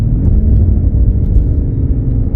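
Deep, continuous engine rumble from a BMW F90 M5 in Sport Plus mode, heard from the cabin as a loud, steady low growl with no one talking.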